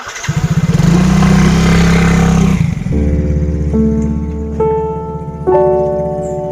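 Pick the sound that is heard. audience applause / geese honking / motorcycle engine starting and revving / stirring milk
motorcycle engine starting and revving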